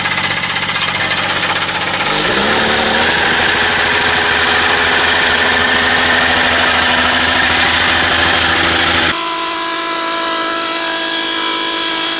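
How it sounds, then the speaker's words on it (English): Mister Jumping Jack, an engine with a throttle problem, runs loud and steady close by, its note settling into a rough idle and then cutting to a different, thinner drone near the end. "If it runs all right and if it idles all right again, we'll see what happens here."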